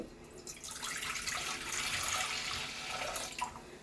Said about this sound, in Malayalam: അതിലേക്ക് നമുക്ക് തേങ്ങാപ്പാൽ ഒഴിച്ച് കൊടുക്കാം.